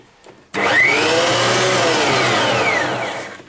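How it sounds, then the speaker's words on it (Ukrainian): An Einhell TC-SP planer thicknesser starts abruptly after a brief quiet moment, then runs with a loud, steady motor whine and a high rushing hum close by, tailing off slightly at the end. "Давайте включимо і подивимося, чи воно працює."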